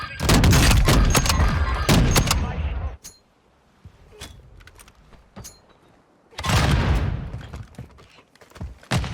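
Heavy Signal 50 sniper rifle shots in Warzone 2, sharp booming reports in quick bursts with echoing tails, a lull of scattered distant shots, then another loud burst, with faint voices between.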